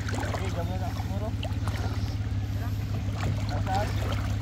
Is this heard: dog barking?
no